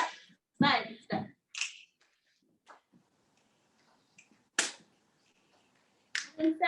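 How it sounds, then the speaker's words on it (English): Sharp finger snaps and claps in a Parkinson's exercise class, sounding as sparse isolated cracks spaced irregularly with quiet gaps between, close and crisp, with faint voices in between. "We got that snap, clap, side step."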